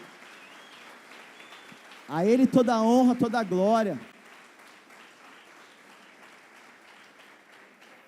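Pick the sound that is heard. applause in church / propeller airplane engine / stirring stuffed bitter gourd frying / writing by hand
applause in church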